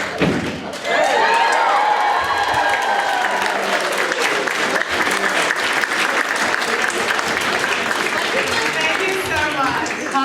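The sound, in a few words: audience applause and cheering at a convention panel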